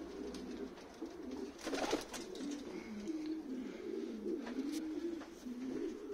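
Female owl pigeons in an aviary cooing softly and continuously, a low rolling coo that rises and falls with a few faint chirps, fairly quiet with no voices.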